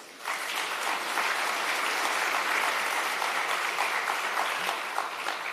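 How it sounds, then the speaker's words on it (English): Sustained applause from a conference audience at a public procurement event, an even, continuous wash of many hands clapping at moderate loudness from start to finish. "I think you should give yourselves a round of applause."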